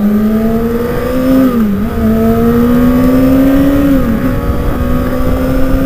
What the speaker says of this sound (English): The guy in front of me, his bike sounds really good.